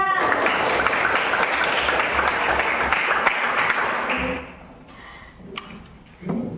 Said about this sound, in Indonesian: silakan tepuk tangan keberaniannya untuk kelompok 3